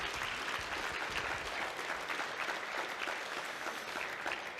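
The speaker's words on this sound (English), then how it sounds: "So a big round of applause to all of you." An audience at a law enforcement memorial ball and auction applauds steadily, a dense, even wash of clapping that lasts throughout without letting up.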